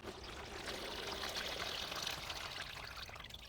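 Distilled water pouring out of a container during a final rinse, a continuous splashing stream lasting a few seconds, close and quiet with no talk.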